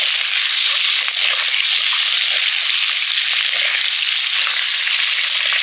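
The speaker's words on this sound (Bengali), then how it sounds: "এরপরে ডিম দিয়ে দিচ্ছি একটা ভেজে নিচ্ছি" An egg fries in hot oil in a pan with potatoes for an egg curry, a loud, dense and continuous close-up sizzle with constant crackling and no talk.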